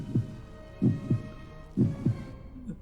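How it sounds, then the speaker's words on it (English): Heartbeat effect in the Tomb Raider custom level Mystica, a deep, muffled lub-dub pulse repeating three times in a steady rhythm, loud and close over a faint low hum. "usually when we hear that heartbeat, that means there's an enemy"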